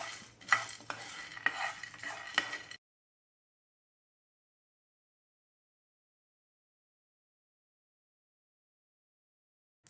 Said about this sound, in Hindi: एक पैन गरम कर लेते हैं हाई फ्लेम पे और इसी कप के मेजर से 3/4 कप मूंगफली डाल देते हैं। इसे बहुत अच्छे से भूनना होगा।